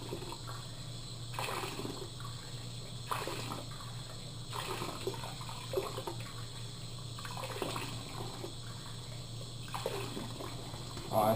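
Water poured into a bucket for hand-washing clothes, a gushing splash that comes in several repeated surges over a low steady hum, with no voices.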